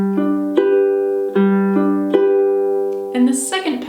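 Ukulele fingerpicking pattern for a song, with plucked notes ringing out in a steady, unhurried rhythm up close and a brief brushed flourish at the end.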